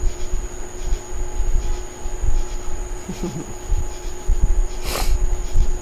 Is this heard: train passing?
yes